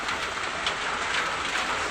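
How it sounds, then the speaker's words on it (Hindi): Heavy rain pours steadily on the village square of Laxmi Pokhariya, a dense, even hiss with no breaks and no voices. "यहाँ लगभग 2 घंटे से बारिश हो रही है अभी"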